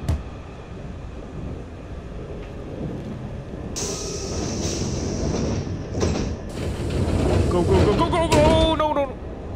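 Train ride in the horror game Platform 8, with a steady rumble and clatter of the moving carriage throughout, joined later by loud screeching and eerie tonal effects while someone talks over it.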